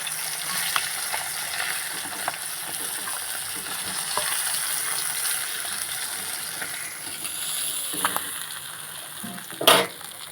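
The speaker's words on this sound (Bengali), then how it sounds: "এবারে ভেজে নেব যে বাকি ক পিস ছিল সেইগুলো" Continuous bubbling sizzle of fresh bata fish pieces frying in oil, steady and close, with a few light clinks and a brief louder scrape near the end.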